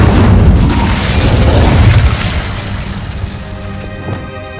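An Incendio fire spell cast in Hogwarts Legacy bursts in a loud, rumbling whoosh of flame that swells at once, then slowly dies down into a fading crackle, with no talking.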